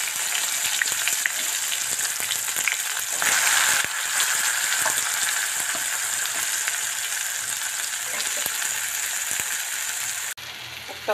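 Shrimp fry in mustard oil in a pan with a loud, steady sizzle that holds close and constant throughout, with a brief stirring scrape partway through and a short break near the end.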